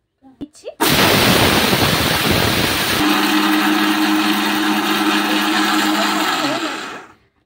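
An electric grinder whirring hard as it pulverises ingredients for homemade Horlicks-style malt powder, a loud continuous motor roar that starts sharply, settles into a steadier pitched hum, then winds down at the end after a few brief knocks.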